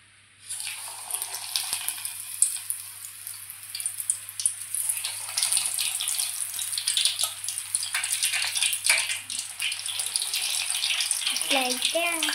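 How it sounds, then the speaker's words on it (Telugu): Steady rain falls with a dense, hissing patter of drops close by, continuing without a break, and a voice is briefly heard near the end. "వర్షం పడుతుంది."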